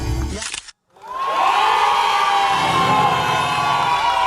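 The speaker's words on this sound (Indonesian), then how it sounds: "insya Allah kita beri tepuk tangan buat Ruben Onsu" A television studio audience cheers and claps loudly after a short burst of noise and a brief silence, building into a sustained roar of applause with shouts and whoops.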